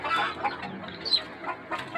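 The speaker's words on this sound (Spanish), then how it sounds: "Ahí está el gallito, amigos." A Brown Red rooster clucks softly in a series of short, close calls, alone without talk.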